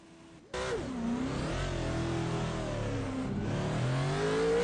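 A race car engine in the iRacing sim at the Daytona 500, driven down pit road, holds a steady loud drone with rising and falling pitch as the car weaves, starting abruptly after a brief quieter moment.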